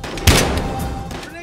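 A single sharp, loud gunshot in the video game Battlefield Hardline cracks early, then rings off into a decaying tail with faint background game noise.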